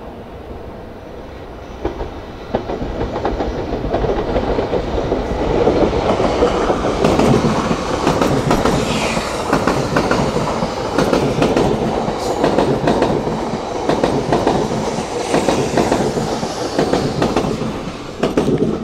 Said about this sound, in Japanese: これですよ、500系新幹線。